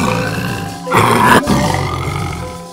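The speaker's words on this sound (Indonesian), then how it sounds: "Itu suara harimau." A tiger gives one deep, rough roar lasting about half a second, heard close and loud over a low, continuous growling backdrop.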